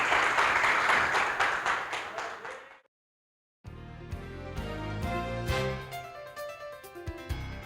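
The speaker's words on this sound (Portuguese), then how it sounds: "Então aplauda ao Senhor." A church congregation applauds during an evening celebration service, a dense patter of clapping that fades out, then after a brief silence music starts up.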